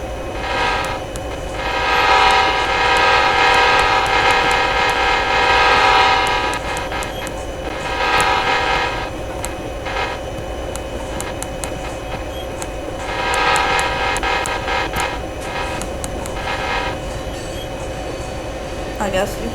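Norfolk Southern diesel locomotive in a train and rail yard simulator game, a steady engine rumble with long loud horn blasts rising and falling in several bursts, a voice talking faintly at times underneath.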